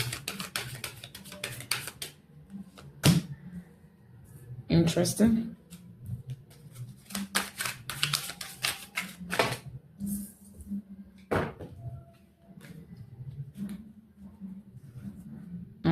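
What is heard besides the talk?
shuffling a deck of tarot cards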